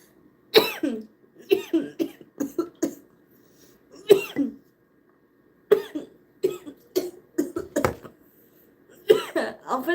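Repeated bouts of coughing, close and loud, coming in irregular clusters with brief quiet gaps between them.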